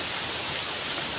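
Heavy rain pours down in a steady, even hiss of dense drops, a continuous wash of noise with no voices.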